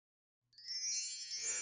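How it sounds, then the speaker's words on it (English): Wind chimes ring out of silence after half a second, a bright tinkling cluster of metallic tones that hangs and shimmers, soft and distant, with no other sound. "Wind chimes sound in the distance."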